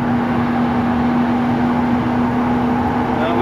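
A pickup truck with its original exhaust system, cruising at highway speed on a worn front end, gives a loud, steady engine and road drone with a constant low hum and no pauses.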